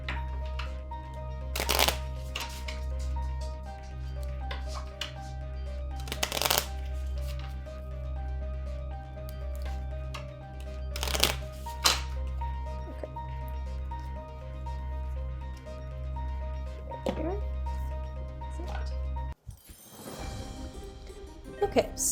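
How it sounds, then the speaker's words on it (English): Playing cards for The Bloody Inn board game shuffled quickly at close range, several sharp riffling bursts over a steady low hum, with a person talking. "So I'll shuffle these up really fast and add it to the bottom of our deck."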